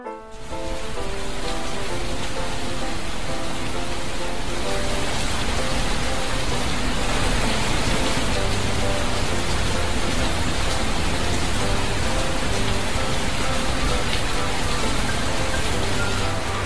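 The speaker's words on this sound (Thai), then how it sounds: "ตอนนี้ฝนตกหนักมากด้านนอก" Heavy rain pours down outside at the top of the Wat Phou stone temple ruins in Laos, a steady, dense hiss of falling water that stays loud and unbroken throughout.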